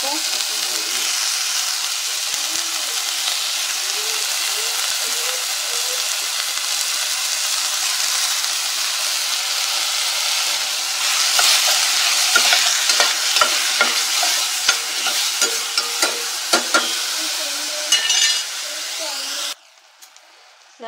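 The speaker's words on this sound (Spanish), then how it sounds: "Vamos a ponerle lo que son los honguitos. Frían un poco." Mushrooms fry in a pan with a loud, close, continuous hiss, later joined by clattering stirring clicks, and a brief voice near the end.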